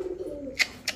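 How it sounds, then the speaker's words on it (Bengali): A male racing pigeon gives a short, close cooing call with a couple of quick soft notes, heard alone. "খুবই সুন্দর একটা নর কবুতর"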